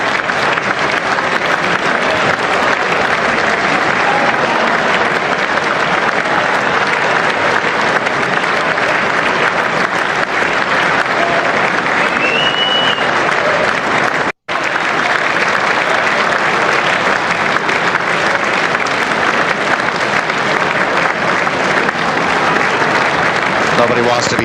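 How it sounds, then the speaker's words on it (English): Loud, sustained applause from a packed chamber at the State of the Union address, a dense roar of many hands clapping with some whistling and crowd noise mixed in, broken by one brief dropout. "Nobody wants to be seen as the first to stop clapping"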